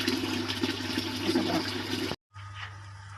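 Water gushes steadily into a pan of hot oil for about two seconds, cuts off abruptly, then resumes briefly with a softer splash.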